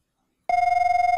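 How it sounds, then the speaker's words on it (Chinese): A mobile phone in a video game starts ringing abruptly after half a second of silence, a steady electronic tone with a rapid pulsing rhythm, clear and alone. "我的手机响了起来"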